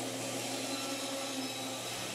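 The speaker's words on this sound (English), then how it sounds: "Here I use the bandsaw to cut out, this is a brace for inside the box" A bandsaw cuts a wooden brace for a dual 24-inch subwoofer box, producing a steady, continuous whir and hum with no break over the short stretch.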